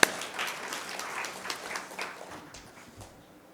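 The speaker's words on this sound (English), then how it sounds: "So, applause." An audience at a business summit claps after a minister's remarks, a sharp start followed by scattered, moderately quiet applause that gradually fades away.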